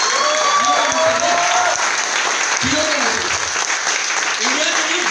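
Dense, sustained applause from an audience at a direct-selling company gathering, steady crowded clapping throughout with a few voices rising faintly beneath it.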